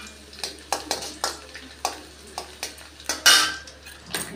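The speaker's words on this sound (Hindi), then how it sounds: "इधर हमारा लहसुन पक रहा है," Garlic frying in mustard oil in a kadhai, with a faint sizzle under sharp metallic clinks and scrapes of a spoon stirring against the pan, irregular and close.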